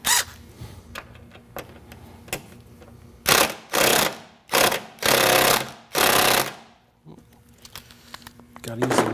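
A power tool removes three bolts to take a car fender and bumper off. Five loud, short whirring bursts come in quick succession, with quieter clicks and handling noises before and after.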